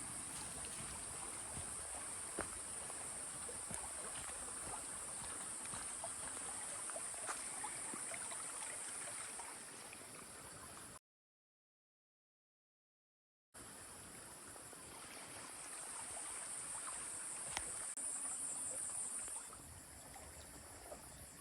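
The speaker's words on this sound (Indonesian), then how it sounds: "ada suara sungai di sebelah kanan dan suara burung di sebelah kiri" A steady babbling stream runs throughout with a high bird or insect chorus above it, briefly cutting to silence midway.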